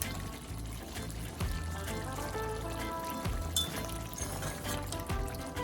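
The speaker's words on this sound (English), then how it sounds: "So now I'm gonna add my coconut cream." Coconut cream pours into a pot of Jamaican curry goat, a soft continuous trickle under a low background hum with faint clinks, close and quiet.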